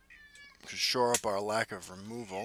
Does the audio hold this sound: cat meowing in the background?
yes